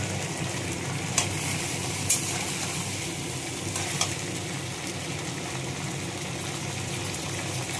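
Panch phoron spices with garlic and ginger paste fry in a wok, giving a soft, steady sizzle with a few faint clicks of stirring throughout.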